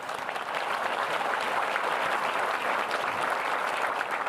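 Sustained applause from an audience at a banking innovation awards ceremony, a dense, steady wash of clapping that stays loud and even from start to finish with no talking over it.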